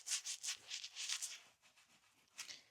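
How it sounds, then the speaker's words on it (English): Close, soft rubbing and scrubbing on the skin of the neck during a post-gym wash, several quick strokes, then quieter rubbing and one last brisk scrub. "scrub your neck real good, wash your neck, and yeah, you just scrub real well and get that in."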